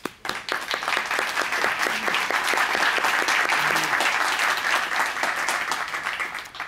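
An audience at a tribute event in a Cuban diaspora museum hall claps for an honored guest; dense applause swells quickly, holds steady, then tapers near the end, with no speech over it.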